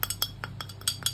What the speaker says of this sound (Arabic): هنفضي البهارات والثوم كده